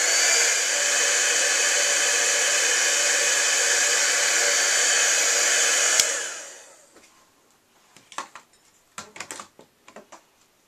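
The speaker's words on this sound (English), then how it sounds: "we're going to go ahead and take our embossing gun, our heat tool, and we're going to go ahead and emboss" A heat embossing gun blows a loud, steady whooshing hum for about six seconds over embossing powder on a card, then cuts off, followed by scattered light clicks and taps at close range.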